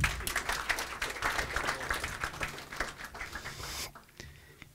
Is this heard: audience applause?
yes